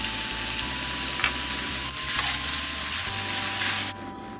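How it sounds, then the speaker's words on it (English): Steak frying with seasoned juice in a pan, a steady broadband sizzle with soft stirring scrapes and clinks, continuous and close until it drops away abruptly near the end. "When our steak begins to take on a good color, we are going to add the seasoned juice and stir it well."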